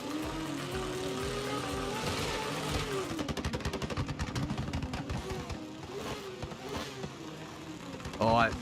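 Drift cars at the ESDA 2024 World Championship preliminary round in Tsukuba rev their engines on the start line, several engines bouncing off the limiter in rapid overlapping bursts, loud and close, with a sharp peak near the end.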